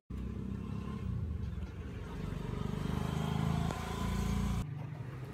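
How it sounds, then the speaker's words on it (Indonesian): A Yamaha motorcycle engine, just repaired after MIL fault codes 22 and 15 and a throttle body refit, runs close and steady at idle for about five seconds, then drops off abruptly near the end. "alhasil motor nyala kembali dengan normal"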